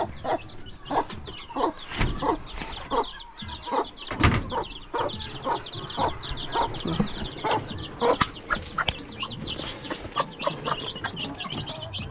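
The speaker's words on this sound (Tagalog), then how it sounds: "Nagpatuka tayo ng mga manok guys." A flock of chickens on a Philippine countryside farm clucking and chattering nearby while pecking feed, with scattered pecking taps and a few louder squawks, no talking.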